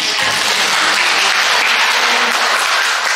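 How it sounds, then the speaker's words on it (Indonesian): Congregation applauding inside a Catholic church in Indonesia, a steady, dense wash of clapping that stays loud and even from start to finish with no voices over it. "Kita beri tepuk tangan untuk"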